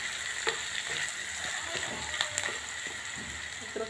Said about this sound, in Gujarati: મિત્રો, તમે જોઈ શકો છો ડુંગળી સરસ આપણે ઘીના અંદર સાય થાય છે.